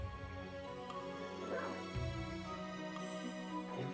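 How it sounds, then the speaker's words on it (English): In Castlevania: Symphony of the Night, a water dog creature yelps and barks in short cries over a constant bed of game music and ambience. "listen to this water dog."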